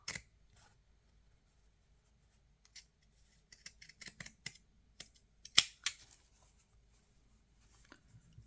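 Scissors snip fabric trim for a handmade bookmark, making a quiet, close-up cluster of crisp cuts, some fast and some spaced out, with near-silence on either side.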